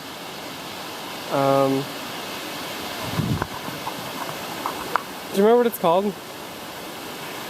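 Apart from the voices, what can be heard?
Waimoku Falls waterfall on the Pipiwai Trail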